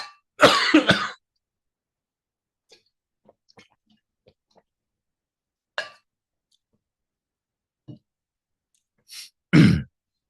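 A lone speaker's coughs and throat clearing during a quiet Buddhist sutra lecture, a close burst at the start, then scattered faint clicks and small throat sounds, ending with another double cough.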